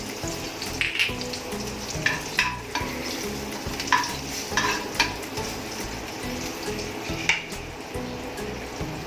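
Cumin seeds and green chillies hit hot oil, giving a loud, close, continuous sizzle and frying hiss broken by clinks and scrapes as the pan is stirred.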